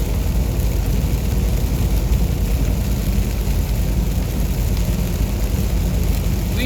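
Heavy rain drums steadily on a moving car during a storm on the road through the Great Plains, a dense, loud wash mixed with road and engine rumble, with no voices.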